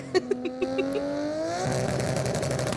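Upgraded Toyota Supra engines rev hard in the Forza Horizon 5 racing game. A few quick blips give way to a rising, sustained engine whine that climbs in pitch and holds loud and close.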